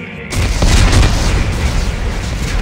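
A sustained, loud explosive roar of detonating explosives in the Dead Space 3 video game, a dense rumbling blast that fills the whole moment without letup.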